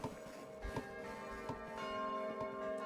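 A morning bell rings in the video game Kingdom, a few clear resonant tolls with long ringing overtones sounding alone at moderate volume.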